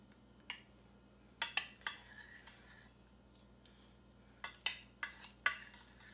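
Turnips being mashed and mixed with butter and sugar in a home kitchen, heard as sparse clinks and scrapes of a utensil against a pot, a few isolated taps then a quick cluster of knocks near the end, close and fairly quiet.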